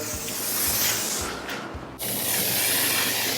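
Close, loud hissing spray bursts from a sprayer applying car wash cleaner, a sustained misting sound with a brief pause before spraying resumes.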